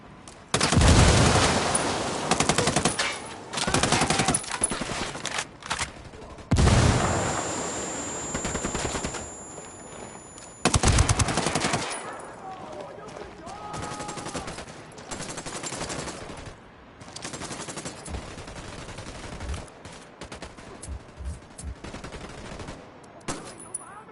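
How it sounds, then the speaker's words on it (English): Gunfire in Ghost Recon Wildlands, with bursts of automatic rifle fire coming in several loud volleys separated by quieter stretches of scattered shots and game ambience. "Opening fire."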